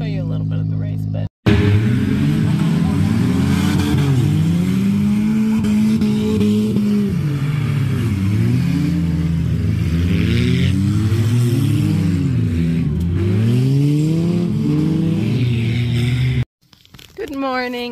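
Race cars roar around a track, several engines revving and rising and falling in pitch as they pass, loud and continuous with a few clear drive-bys, and a brief cut near the end.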